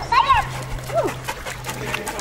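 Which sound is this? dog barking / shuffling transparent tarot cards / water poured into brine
dog barking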